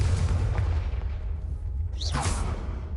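Confringo explosion spell cast in a Hogwarts video game: a constant dense rumbling blast bed with a rising whooshing sweep near the end, loud and alone with no talk.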